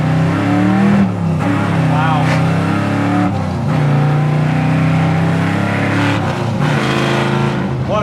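A 1979 Pontiac Trans Am engine rumbles and revs through its exhaust close by, with repeated throttle blips rising and falling over a deep idle, and someone briefly exclaims over it.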